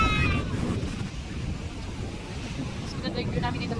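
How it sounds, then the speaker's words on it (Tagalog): Wind buffets a microphone on a beach, a steady low rumble with gusty swells, loud and continuous throughout. "Mahangin."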